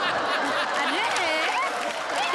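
An audience claps at an award presentation during a comedic ladies' haldi-kunku gathering: loud, dense applause for the full stretch, with voices and chatter mixed into the clapping.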